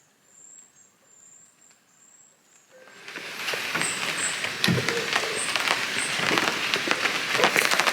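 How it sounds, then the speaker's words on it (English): Rain falls on a treehouse in a forest, starting as a quiet insect-like chirp and faint patter, then swelling into a steady loud hiss of rain with scattered heavier drops close by. "It's raining."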